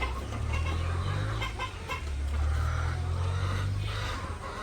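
Chickens cluck and call steadily at evening feeding time in a rural yard, with a low hum underneath and no talk.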